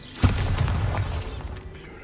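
A Bombarda spell blast in the Hogwarts Legacy game: one sharp, loud boom at the start, trailing into a low rumbling tail that fades over the next two seconds, with no talk.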